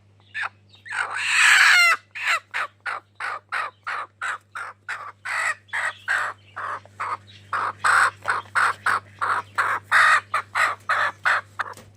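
A hen clucks in a steady run of short, close, fairly loud calls, with a brief louder squawk near the start and no talking.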